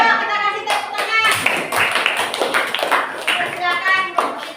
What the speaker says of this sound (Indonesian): Yuk, kita kasih tepuk tangan.